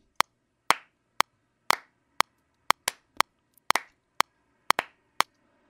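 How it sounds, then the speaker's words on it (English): Dry, close studio hand claps play back alone in a sparse sequence of about a dozen sharp single hits. Their spacing is uneven, so several land noticeably early or late against what should be an even quarter-note pulse. "I was supposed to play these claps on the quarter notes"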